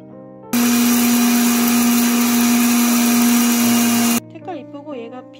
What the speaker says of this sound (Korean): 캔디로 비누 만들 거니까 60g으로 제가 가루를 내볼게요. 가루는 그냥 갈아주면 됩니다.